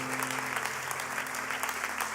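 A church congregation applauding during a sermon, dense rapid clapping from many hands, fairly quiet and steady throughout.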